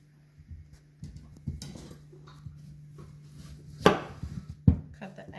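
A knife cuts peeled sweet potatoes into thin strips, giving scattered soft taps and a few sharper chopping knocks on a board, with a low steady hum in the background.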